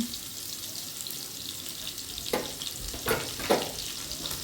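Cornflake-coated prawns fry in oil with a constant close hiss and crackle, broken by a few sharper bursts as pieces hit the hot oil and utensils clink.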